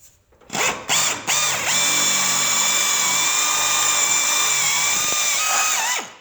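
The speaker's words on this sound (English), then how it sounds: "you want to get a .280 drill bit" A power drill bores a hole with a .280 bit during a truck tailgate installation, giving one steady, loud, high whine that runs for about five seconds after a few short starts, with no talking.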